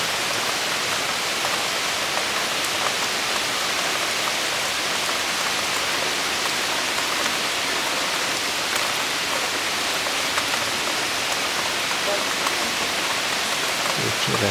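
Heavy night rain pours steadily during a thunderstorm in Zagreb, Croatia, a dense, unbroken hiss of downpour close by for the whole stretch with no distinct thunderclap standing out.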